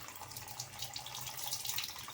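Tap water runs steadily into a sink as cumin, garlic and onion are rinsed under the stream. The splashing is close and even, with no voices.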